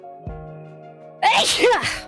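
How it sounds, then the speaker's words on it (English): A person sneezes once loudly and close, a sudden burst after a quiet stretch of steady background tones. "I have to sneeze."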